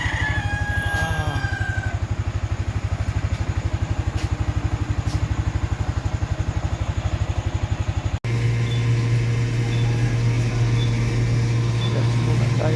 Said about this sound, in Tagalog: Init lang tayo ng makina.